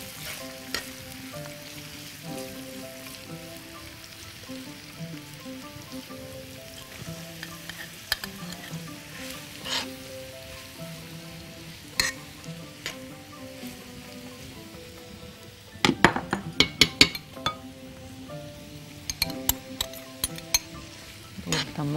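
Black lentils frying with onion and garlic in a pan, a steady soft sizzle with repeated scraping stirs, then a burst of louder clattering stirs near the end; no talking.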